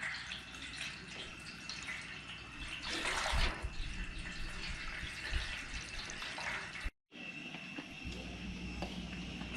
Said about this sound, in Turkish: Biz bu yüzündeki saf suyu, duru suyu alacağız.